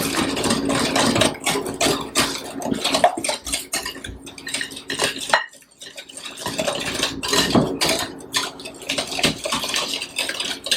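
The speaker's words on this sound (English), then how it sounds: "I'm going to whisk it here until the sugar" A whisk clatters busily against a bowl while a lemon bar mixture is beaten until the sugar dissolves, with dense rapid rattling and a brief pause midway.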